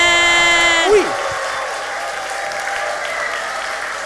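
A sustained sung or musical note cuts off, and a studio audience at The Masked Singer then breaks into continuous applause for the meerkat performer, filling the rest of the moment.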